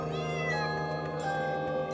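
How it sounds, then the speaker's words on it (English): A pet cat in the video game Portal Knights meows steadily over a constant layer of game music and ambience, the short cries standing out clearly. "We have a kitty cat pet."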